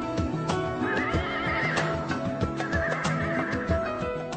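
Horse at a training session at an Islamic boarding school, whinnying loudly and close while hooves clip-clop rhythmically underneath.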